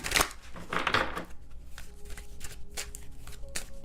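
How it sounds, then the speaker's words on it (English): Oracle cards being shuffled and drawn by hand, a loud riffling burst at first and then softer card slides and taps up close. "let me get a couple more oracle cards here"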